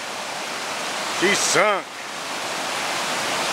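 Rushing water from a swollen creek running far higher than usual, a steady broadband roar filling the whole clip, with a person speaking briefly over it.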